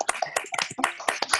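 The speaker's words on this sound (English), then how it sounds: "please a round of applause" Scattered applause from a handful of online meeting participants, uneven individual claps with some voice, loud and close as if through separate microphones.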